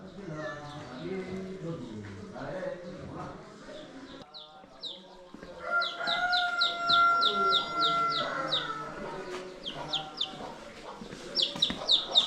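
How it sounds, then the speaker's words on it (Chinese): Hens and chicks wandering through a Hani ethnic village among the Yuanyang terraced fields, with repeated chirps and clucks in bursts over steady outdoor ambience while a person talks. "小鸡，老母鸡带着一头水牛。"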